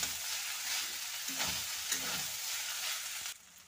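Previously fried eggs stirred into pasta in a hot pan, with a continuous close sizzle and scraping stir strokes that stop abruptly near the end, with no talk.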